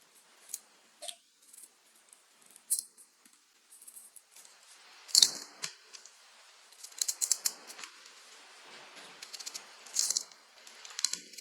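A knife cuts peeled peaches into slices, giving sparse, crisp clicks and taps against a board at irregular intervals, close by and without talk.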